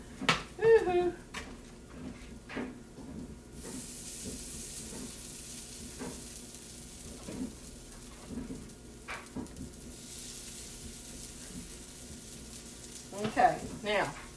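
Spicy bean cakes fry in a pan, giving a soft, steady sizzle. A few clinks and scraping knocks come through, and a voice talks quietly at intervals.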